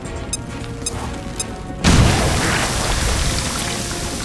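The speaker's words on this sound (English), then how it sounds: "Throwing grenade!" A grenade blast in the XCOM: Chimera Squad tactical game breaks in suddenly with a loud, close boom after a short stretch of quieter ambience, then gives way to a long, noisy rumble of debris that stays strong to the end.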